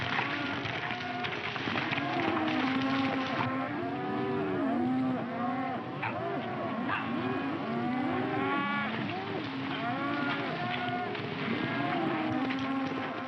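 A herd of cattle driven across open range, with continuous overlapping moos and bellows over a steady rumble of moving hooves, loud and sustained throughout.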